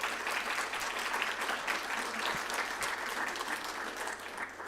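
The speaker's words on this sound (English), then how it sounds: "Let's give them all a big round of applause." A town hall crowd gathered on youth mental health and wellbeing breaks into steady, dense applause, loud and continuous for several seconds before easing slightly at the end.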